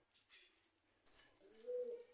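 Faint, low cooing from pet pigeons at home rises near the end of the short stretch, with a few soft higher chirps earlier and no talking.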